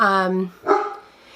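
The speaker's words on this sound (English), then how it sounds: "If you can hear my dog barking," A pet dog gives a single short, sharp bark close by, right after a brief spoken voice, then the room goes quiet.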